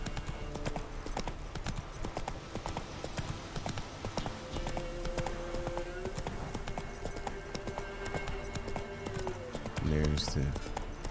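A horse's hooves galloping in The Witcher video game, a steady rapid clip-clop running throughout at moderate level with a brief whinny near the end, while a person talks over it.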